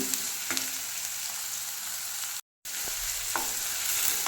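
Onions and masala fry in a pan with a steady, close sizzle, broken by occasional spatula scrapes against the pan and one brief dropout of total silence.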